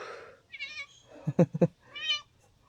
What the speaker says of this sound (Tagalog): Uy, si Mingming, oh. Meow! Meow! Meow! Meow!